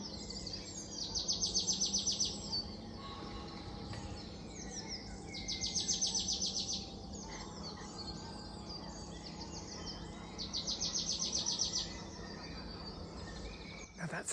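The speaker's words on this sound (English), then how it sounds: "That's a marsh tit" Marsh tit singing during a dawn chorus at a nature reserve, three bursts of rapid high chipping song repeated at regular intervals over steady background birdsong and insects.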